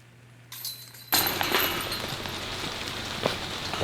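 Rain falls on a golf course, a steady hiss that starts abruptly and continues loud and close, with faint tapping on surfaces.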